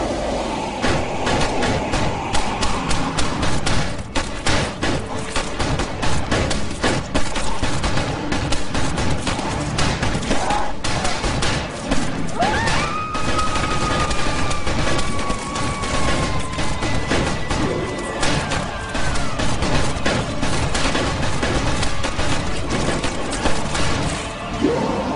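Prolonged gunfire in a zombie movie, dense and continuous rapid shots that blur into a loud, unbroken clatter for the full length, without pause.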